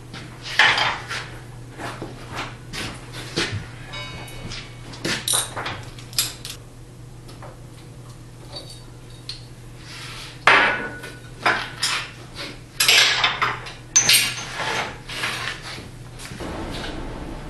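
A treadle hammer strikes a flatter on a metal bar in a blacksmith shop, sharp metallic clangs landing in irregular clusters over a low steady hum, loud and close with no talking.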